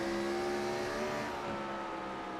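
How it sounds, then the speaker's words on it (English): A NASCAR-style race car, the No. 68 in a throwback scheme, powers out of a corner at North Wilkesboro Speedway in iRacing, its engine a smooth, sustained roar that eases slightly toward the end. "you can hear just how smooth that 68 car is getting back on the throttle"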